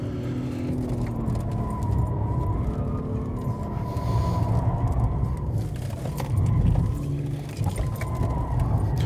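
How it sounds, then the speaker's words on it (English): Steady car engine and road noise on a race track hot lap, with high tire squeal from poor tires mixed in, loud and continuous throughout. "A lot of tire noise, using the curbing on the back. These tires suck, they are squealing like a pig."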